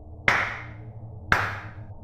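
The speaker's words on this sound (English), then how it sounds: "Clap once for each person." Two sharp hand claps about a second apart, close and distinct over a low background hum, used as an effect in a horror story.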